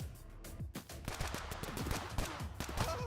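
Rapid gunfire in the arena shooter Bullet League, a dense chatter of sharp shots and impacts repeating throughout at moderate loudness with no voices.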